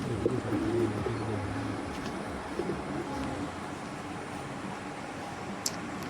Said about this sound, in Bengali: এখানে কিছু জালালি কবুতর আছে।